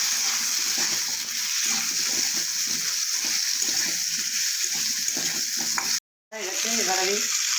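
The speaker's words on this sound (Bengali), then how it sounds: "অল্প একটু হলুদ দিয়ে ভালো করে আলুটা আমি কিছুটা ভেজে নেব" Potato pieces sizzle steadily in hot oil in a pan, seasoned with salt and turmeric, a bright continuous crackle with soft stirring scrapes and a brief cut near the end.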